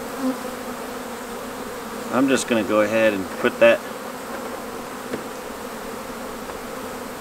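A clump of bees from a rescued hollow-tree colony hums in a steady, close, continuous drone, with someone briefly talking over it midway.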